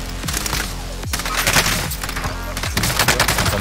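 An AUG rifle firing in the Warzone video game plays as loud, close, rapid automatic bursts in a steady stream, with brief gaps between strings of shots.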